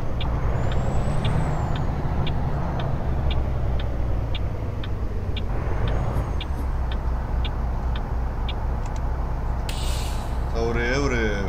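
Freightliner truck engine in American Truck Simulator, a steady low diesel drone running throughout with air-brake hiss bursts near the end, under a spoken voice.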